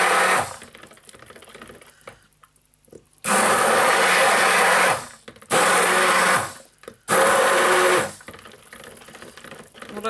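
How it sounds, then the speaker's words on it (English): Handmade silk soap batter, honeyed fig and saffron, gets white colourant blended in with a stick blender, loud steady whirring bursts of two to three seconds alternating with quiet pauses. "I'm going to just mix this in, just stir it in a little first,"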